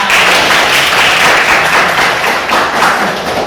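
Students in a morning classroom session clap their hands together in a loud, dense burst of applause lasting a few seconds, with no talking over it.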